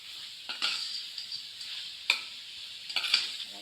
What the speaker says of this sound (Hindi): ये देखिए हमने बटेर इसमें अच्छी तरह भून लिए हैं।